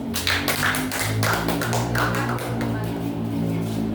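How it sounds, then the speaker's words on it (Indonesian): Applause in a classroom, a dense burst of many hands clapping quickly and unevenly, close and fairly loud, sustained for a few seconds with a steady low hum beneath. "Kasih aplaus"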